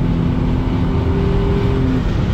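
A Nissan VRX car with a worn front engine mount accelerating, a loud steady low engine drone with a rising tone close up, and a rough rumble underneath throughout.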